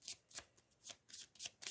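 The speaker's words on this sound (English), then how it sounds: "Let's shuffle our event deck" A deck of event cards for the horror board game Final Girl is riffled and shuffled in quick, soft bursts, several short crisp flutters close by and fairly quiet, with no talking.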